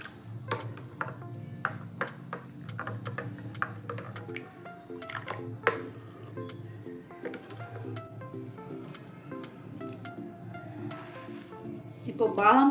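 A spoon stirs soaked almond gum into a nut juice with wet, squishy clinks and drips, close and steady throughout. A voice talks over it.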